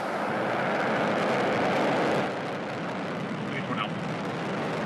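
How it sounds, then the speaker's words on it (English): A Falcon rocket lifts off in Kerbal Space Program with a broad, steady roaring rumble that fills the clip, loud and constant, easing slightly partway through, with faint voices beneath. "Ignition. And liftoff. Go Falcon."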